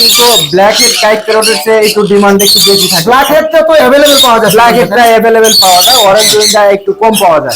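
Loud, harsh squawks of an orange-winged kite parrot repeat almost without pause, close by, shrill and raspy with brief gaps between calls.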